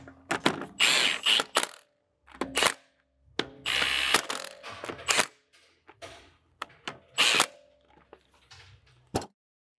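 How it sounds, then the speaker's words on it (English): An impact wrench snugs 17mm lug bolts on the front wheel of a BMW E83 X3, giving several loud, close rattling bursts of a second or two each, separated by short pauses and finished by a sharp click. "Now we can snug them up with the impact."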